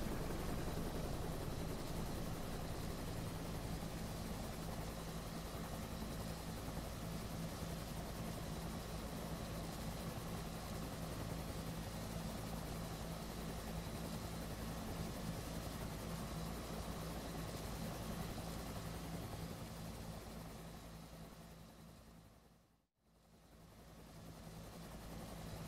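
Helicopter rotor and turbine drone from DCS World flight simulation during a slow landing, a loud, steady, continuous whir with a pulsing rotor beat, briefly cutting out near the end before resuming.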